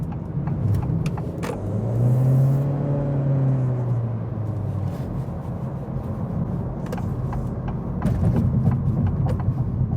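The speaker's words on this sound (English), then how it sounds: "You just press the gas and then you're off." An Acura Integra with a CVT accelerating from a press of the gas, a steady engine whir and road rumble rising smoothly without gear shifts, heard close from inside the car with no talking.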